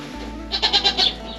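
A goat doe on an icy farm lets out one loud, close bleat, wavering through several pulses over a steady low background hum.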